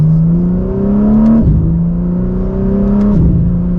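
BMW M4 CSL engine pulling hard in second gear, a loud steady rising drone close up with a brief dip at each of two quick upshifts, no voices.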